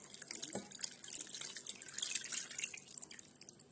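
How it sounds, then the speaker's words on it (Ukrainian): Brine poured over sliced pickled eggplant in a jar, a soft wet trickle and dripping splash that runs steadily and close, quiet and alone with no voices. "і заливаємо розсолом"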